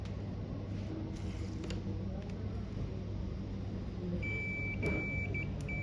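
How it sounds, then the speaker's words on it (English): A multimeter continuity test beeps while probing points on a broken motherboard during repair, giving a few short, thin tones late in the clip over steady low bench hum with faint handling clicks. "a beep sound means there's continuity"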